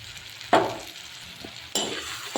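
Tomatoes are added to a hot pan and fry, with two loud bursts of sizzling and a softer third one, each trailing off into a quieter crackle. Nobody speaks.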